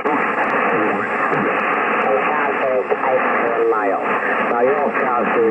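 Ham radio receiver with noise cancelling switched off, giving a steady loud hiss of static over the whole stretch, with warbling, garbled voice fragments drifting in and out underneath.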